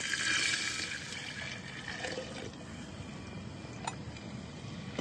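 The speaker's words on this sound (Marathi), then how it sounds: "तांब्यावर पाणी ओतून घेणार आहे" Water pours from a tambya, a small metal pot, into a horse gram madge porridge in a home kitchen: a steady, close rushing pour that runs throughout and eases off slightly after the first second.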